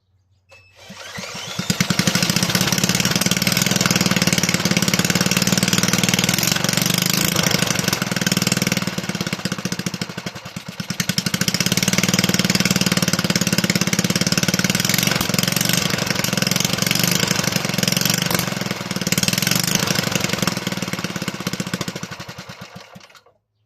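A Toro 18005 lawn mower's small engine catches and keeps running, a loud, steady close-up drone lasting about twenty seconds with two brief dips in the middle before it shuts off.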